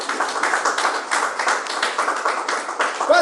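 Church congregation clapping for Jesus, a steady, dense patter of many hands filling the room with a regular pulsing rhythm, fairly loud and continuous throughout.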